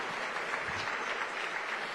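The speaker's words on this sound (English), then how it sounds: "I love it when the invocation gets applause" Steady applause from a large audience at a political rally in Anaheim, California, following an invocation prayer, sounding as a dense, continuous wash of clapping hands.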